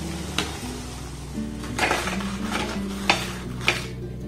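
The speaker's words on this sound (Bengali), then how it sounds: "দেখুন এগুলোকে আমি অন্য পাত্রে সার্ভ করছি" Fried potato and semolina snacks moved into another dish, with scattered clinks and clatters of a utensil against metal pans, several sharper knocks standing out over a low background hum.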